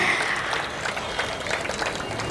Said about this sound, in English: I think the claps are too feeble for this achievement